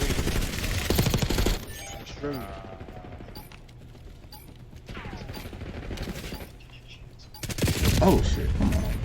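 Automatic gunfire in a Call of Duty Black Ops 6 multiplayer match, loud rattling bursts at the start and end with quieter scattered shots and game effects between, while players talk over it.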